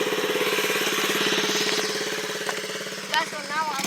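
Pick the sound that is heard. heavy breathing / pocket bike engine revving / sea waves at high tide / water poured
pocket bike engine revving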